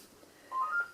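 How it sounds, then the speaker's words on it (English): A telephone rings faintly in the background of a quiet craft room, one brief electronic warble with no one speaking over it. "I'm going to ignore that phone because I'm hoping it's not for me."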